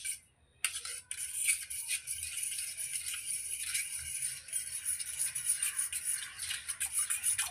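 A fork stirs fine semolina into buttermilk dosa batter seasoned with cumin, chili, coriander and salt, giving a steady, close scratchy swishing that runs without pause and has no talking.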